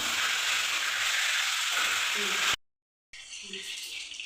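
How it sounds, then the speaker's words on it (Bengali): A duck egg fries in a pan with a loud, steady sizzling hiss that cuts out briefly and then resumes, while a voice talks over it. "তারপরে আগে ডিমটা ভেজে নিই"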